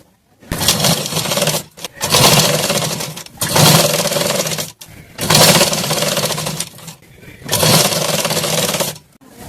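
A sewing machine stitches a double seam on a simal katori blouse in five loud, whirring bursts of a few seconds each, separated by short pauses.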